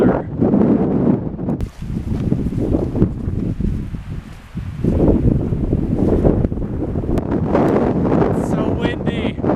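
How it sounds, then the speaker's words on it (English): Strong gusting wind on a mountainside buffets the microphone with loud, broad roaring rumble that swells and dips continuously for the whole stretch. "It's so windy."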